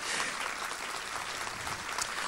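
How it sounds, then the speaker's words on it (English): Steady, dense applause from an audience, even in level throughout without a clear start or finish. "Give yourselves a round of applause because you were super."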